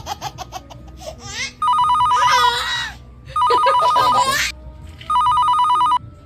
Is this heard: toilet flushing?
no